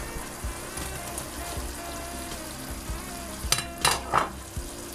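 Onion added to a hot pan of stewed meat, frying with a steady loud sizzle and crackle throughout, plus a couple of brief stirring scrapes near the end.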